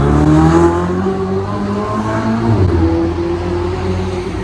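Ferrari 488 with a non-stock engine note passing on a Paris street, a loud harmonic engine drone that rises and shifts in pitch as it accelerates nearby.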